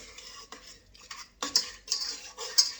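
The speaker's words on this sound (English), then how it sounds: "I'm just going to take my spoon and give it a little stir." A metal spoon scrapes and clinks around a bowl of melted butter, giving several short stirring strokes with a louder burst near the middle, close and alone.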